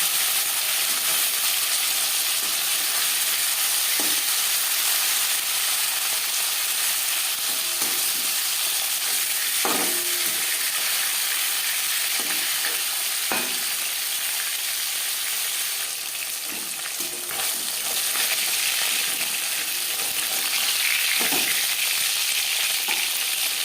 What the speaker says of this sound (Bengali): হালকা করে মাছ ভেজে নেওয়া হয়ে গেছে